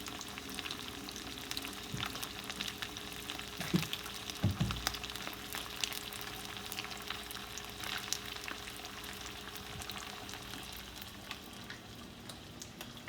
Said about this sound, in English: you want to be careful not to fry it too fast on too hot of an oil